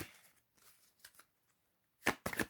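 Tarot cards shuffled by hand in a few soft riffling bursts, with two louder, crisp riffles near the end and quiet gaps between, no talking.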